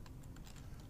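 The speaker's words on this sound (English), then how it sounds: "I'm gonna hit some other keys here." Computer keyboard keys pressed while playing the game Starforge, a quick run of soft, faint clicks in an irregular rhythm, heard alone.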